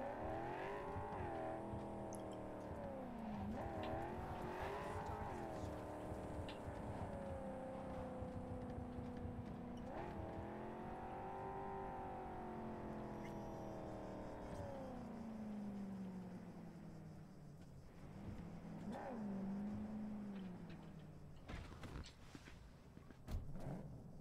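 A rig is driven in the video game Cyberpunk 2077, its engine droning and rising and falling in pitch as it accelerates and eases off, steady and fairly quiet throughout with occasional sharper knocks.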